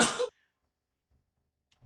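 A single quick, sharp sneeze right at the start, followed by near silence and a faint rustle.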